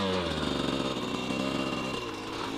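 A motorcycle rides along with its engine droning loud and close, a steady throbbing hum that holds without a break, with no talk over it.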